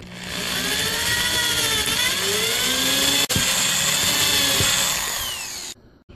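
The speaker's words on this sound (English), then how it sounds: "So first you drill your hole." A power drill bores a hole in wood, a steady loud whirring with shifting pitch as the bit cuts, one brief click midway, then the motor winds down and stops.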